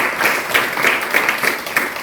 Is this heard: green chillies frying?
no